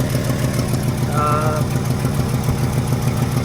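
A truck engine with a newly installed Carter downdraft carburetor idles close by with an even low rumble throughout, constant and unbroken for several seconds.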